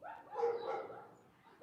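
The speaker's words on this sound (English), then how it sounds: "The barking will stop. That's mommy dog, and she doesn't bark much." A dog, the mother of the pack, gives a muffled, moderately distant bark or yelping whine that rises and trails off over quiet background.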